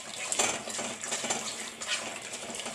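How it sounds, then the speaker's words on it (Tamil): Chopped chicken pieces being mixed with masala for chicken pakoda, giving soft wet squelching and clinking against a metal bowl, a close, steady handling noise with no talk. "இப்போ போட்டு மசாலாவை நல்லா மிக்ஸ் பண்ணிக்கோங்க."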